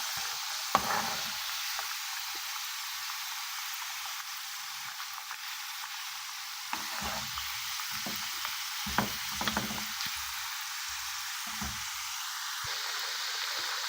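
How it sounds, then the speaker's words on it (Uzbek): Dough sticks fry in a pan on a stovetop with a steady, close hiss of bubbling oil that runs throughout, broken now and then by soft bumps and stirring knocks as the pieces are moved. "Palichkalarni ham birin-ketinlikda qovuryapmiz."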